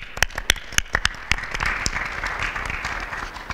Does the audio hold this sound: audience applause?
yes